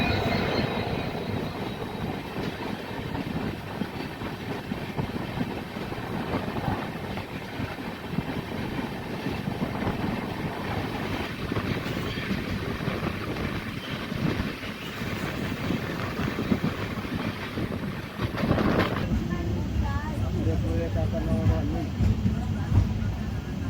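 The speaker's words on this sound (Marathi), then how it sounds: "पूर्ण परळी पॅसेंजर क्रॉसिंग होत आहे." A Parli passenger train rushes past at a crossing, heard from aboard another moving train as a loud, continuous rumble and rattle of wheels and wagons with a sharper burst of noise near the end.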